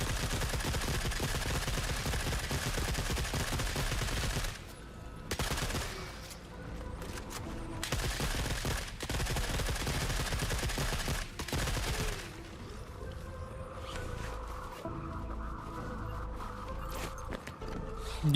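Suppressed gunfire in The Forever Winter crackles in long dense bursts, loud and near, broken by brief pauses and shorter volleys toward the end.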